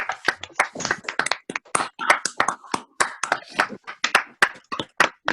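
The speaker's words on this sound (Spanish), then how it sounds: "les vamos a dar un aplauso" Several people clap over open microphones in a virtual meeting, producing sharp, separate hand claps in an uneven, overlapping patter rather than a blended roar, close and fairly loud throughout.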